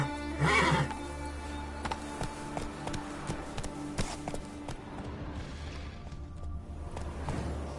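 Roach, Geralt's horse in The Witcher 3, gives a loud neigh near the start, then hoofbeats and game ambience continue under a steady low musical drone.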